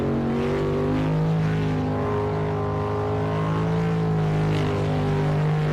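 A V8-powered superboat races with its engine revving hard and continuously, a loud, sustained, harmonically rich roar with slight pitch waverings throughout, no speech over it.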